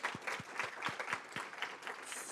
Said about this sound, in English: Can we give another round of applause to our artists and our creators?